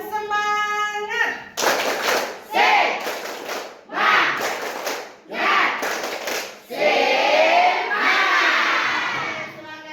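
Students perform a rhythmic spirit clap in a school gathering: several sharp bursts of group clapping in a patterned beat, mixed with loud shouted chanting from the crowd.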